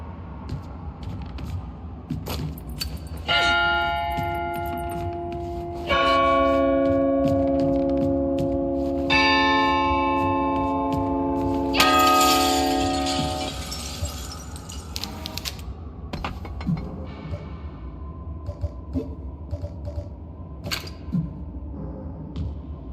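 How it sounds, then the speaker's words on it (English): A hammer strikes church bells one after another in the video game Tormented Souls 2, producing four sustained ringing bell tones spaced a few seconds apart, each decaying slowly, over quiet ambient background. "you've got to hit all these bells in order, the hammer"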